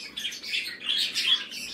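Pet birds in an indoor bird room chirp and squabble, a quick run of bright overlapping tweets and squawks at close range, carrying on for a couple of seconds with no voices.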